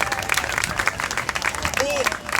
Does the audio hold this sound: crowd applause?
yes